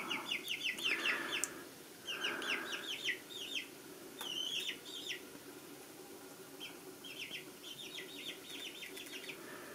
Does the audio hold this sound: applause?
no